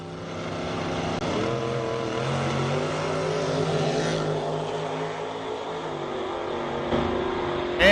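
Camaro drag racing down the strip at a Division 5 ET finals event, with a steady, loud engine roar that rises in pitch as it accelerates, heard alone without talk.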